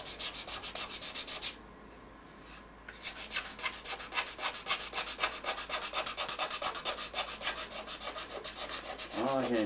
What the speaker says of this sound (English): you can scrape like this for hours